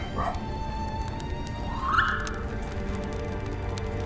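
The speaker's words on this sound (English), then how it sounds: "It told me to bark." A fox character barks in the video game Spirit of the North, giving a short yipping call midway that rises out of steady game ambience and music, with a fainter yelp near the start.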